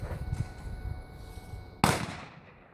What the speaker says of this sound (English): it is the new Glock 43